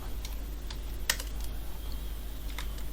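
Keys clack on a computer keyboard as Android app code is typed, a few scattered, fairly soft taps spaced irregularly over a steady low background hum.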